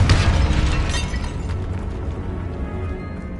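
A Confringo spell explosion in the Hogwarts Legacy video game bursts loudly at the start, then a rumbling, crackling blast trails off gradually over a few seconds, with no voices.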